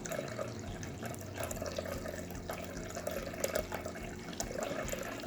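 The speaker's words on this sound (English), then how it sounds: "I dug out the old water fountain and cleaned it up for them" A dog drinking from a pet water fountain on a coffee table, with a steady close trickle of running water and faint soft lapping ticks throughout.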